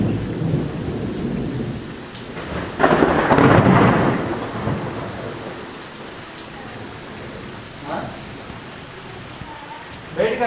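Heavy rain hisses steadily throughout, broken by a loud, close rumble of thunder early on and a few fainter rumbles later.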